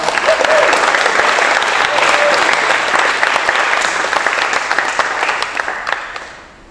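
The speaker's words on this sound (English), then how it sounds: "If we can give them a round of applause." A student panel luncheon audience applauds the panelists, a dense, steady round of clapping that holds strongly for about five seconds before tapering off at the end.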